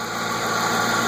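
Ford Mustang GT 4.6 2-valve V8 running steady at idle, a continuous even engine hum with a smooth low rumble, close by and alone with no voices.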